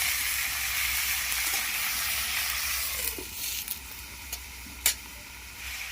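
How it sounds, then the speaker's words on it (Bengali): Mutton frying in a covered pan gives a dense, steady sizzling hiss that eases slightly later on, broken by a few faint taps and a sharper click near the end. "মাংসটাকে আমরা ঢাকা দিয়ে দিয়ে একটু ভেজে নেব"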